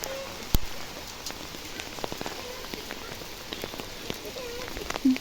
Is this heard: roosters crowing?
no